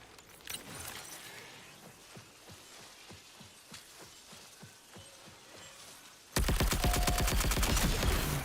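A turret in the Marathon video game fires a rapid stream of sharp shots, sporadic at first, then a loud, dense burst of fire near the end.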